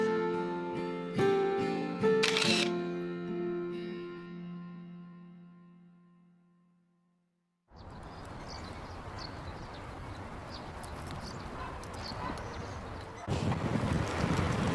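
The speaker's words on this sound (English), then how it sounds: "Oh, the wind's stronger here on the bridge." Strong wind on a bridge in Akita Prefecture, Japan, roars as a loud, steady, gusty rush into the microphone during a motorbike journey, following a stretch of fading tonal music and a brief silence.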